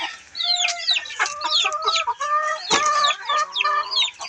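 Laying hens cluck busily and close by, with overlapping rhythmic calls and occasional louder squawks filling the whole moment.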